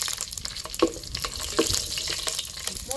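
Fennel seeds and cumin dry-roasting together in a pan, giving a soft, steady crackling sizzle with light scraping from stirring and a couple of brief clinks, close and with no voices.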